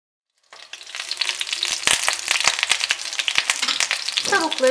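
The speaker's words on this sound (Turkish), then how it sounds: "Önce kanatları kızartıyorum. Birazcık daha kızarması lazım." Chicken wings frying in oil in a pot, a loud close sizzle that bursts in suddenly and keeps crackling and popping steadily with sharp spatters throughout.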